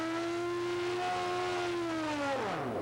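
Drag racing motorcycles at a 1989 IDBA race, one a Suzuki, a loud sustained high engine whine that holds steady and then drops sharply in pitch as the bikes pass at speed.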